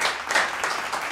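A comedy roast audience breaks into a short burst of dense applause, many hands clapping close and fairly loud.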